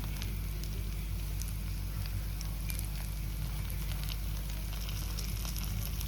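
Broad beans frying in a pan with turmeric and crushed garlic chili powder, a steady, even crackling sizzle that holds close and constant throughout.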